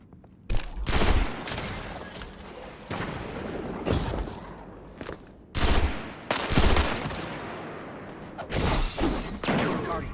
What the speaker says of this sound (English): Grenades, punch, bullets everywhere.